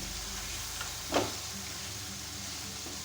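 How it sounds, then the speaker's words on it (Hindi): Achari mutton gosht cooking: mutton with garlic, ginger and spices frying in a pan gives a steady, even sizzle, with one brief clatter partway through. "और इसे भून लूँगी।"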